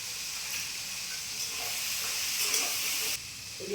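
Potatoes slowly frying under a lid in a covered pan, a continuous steady hiss and sizzle with faint crackles and a soft clunk near the end, close and alone without talk.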